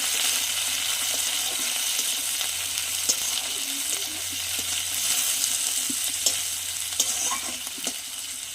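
Prawns fry in hot oil with browned garlic and green chillies, giving a continuous bright sizzle with scattered crackles and pops, stirred now and then, close by and with no talking.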